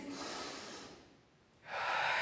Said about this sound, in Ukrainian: А для цього нам потрібно вдихнути через носик